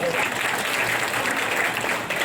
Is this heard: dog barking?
no